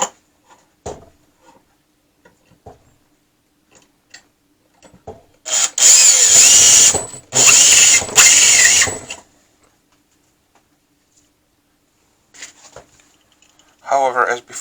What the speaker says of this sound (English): I'm going to start the hole with my hand drill.